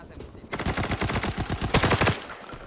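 Rapid bursts of automatic gunfire in the video game Arena Breakout crackle in quick succession, loud and close, over a faint background hum.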